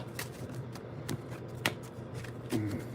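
Tarot cards riffle-shuffled close up, with several crisp bursts of flapping and snapping spread across a few seconds over a low hum.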